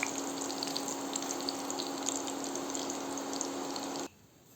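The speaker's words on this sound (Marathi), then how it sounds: "हे सोयाबीन तळताना कमी गॅसवर किंवा कमी समजा शेगडी असेल तर कमी फ्लेमवर तळून घ्यायचे आहेत" Soybeans deep-frying in oil over a low flame, a steady, even sizzle and bubbling that holds at the same level throughout, then drops away abruptly near the end.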